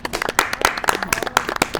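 An audience claps for a woman introduced on stage, a steady run of sharp hand claps, loud and close, with faint voices mixed in.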